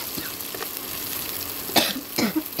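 Two short, sharp coughs close by from cooking fumes, over the steady sizzling of chicken in soy sauce being cooked.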